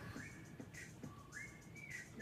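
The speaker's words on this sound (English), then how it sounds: "Was that, were you whistling?" A person whistles a short, bright tune of sliding notes up close, over a low background murmur.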